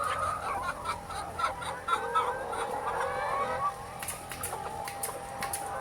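Chickens cluck repeatedly at a farm flock of about two hundred birds in Chiang Mai, a busy layered chorus of short calls at moderate distance with light background activity.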